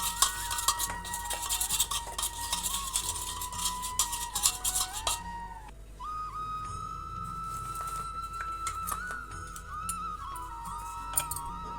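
A spoon stirring turmeric, garam masala and kasuri methi in a pan for a dhaba-style paneer masala, with soft scraping and light clinks beneath a steady whistling tone, fairly quiet and close.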